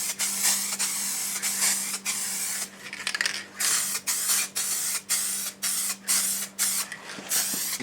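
Liquid wrap paint sprayed onto a Triumph Tiger motorcycle's exhaust in a garage, a close series of hissing aerosol bursts, some long and some short, with brief gaps between them over a faint steady hum.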